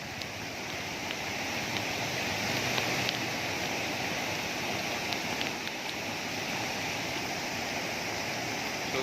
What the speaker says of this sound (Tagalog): Kusog ang baha.